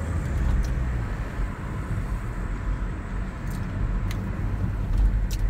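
A Volvo 850 on a test drive after a spring install, still warming up. The cabin holds a steady low engine and road rumble with tyre noise throughout, and a few faint clicks ride on top.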